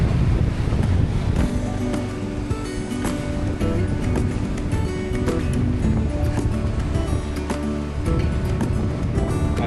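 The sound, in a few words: wind and waves on a Nautitech 40 catamaran at sea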